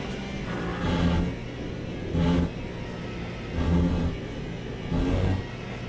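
A Ferrari race car in the Le Mans Ultimate racing game, racing at Spa: four rising engine surges spaced roughly a second apart over a steady mechanical drone, moderately loud.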